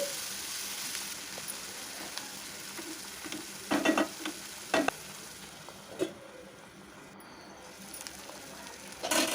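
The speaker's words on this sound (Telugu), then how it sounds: "గంగావాయిల కూరని వేయాలి వేసి మంచిగా ఆయిల్ పోపులో మంచిగా కలిసేలాగా కలపాలి" Ganga vayili greens frying in an oil tempering with green chillies and garlic, a quiet continuous sizzle broken by a few sharp scrapes and clinks of a spoon stirring the pan.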